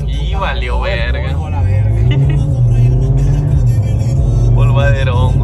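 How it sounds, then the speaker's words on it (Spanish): An Audi TT RS at a sports car meet in Culiacán accelerates with a deep, loud engine drone that rises in pitch, while people talk over it nearby. "Ahí viene el TTRS que tira balazo, no truena."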